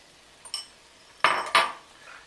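A few clinks and scrapes of a utensil against a bowl while stirring dumpling batter of milk, beaten eggs and vegetable oil, quiet and close, with short bursts separated by pauses.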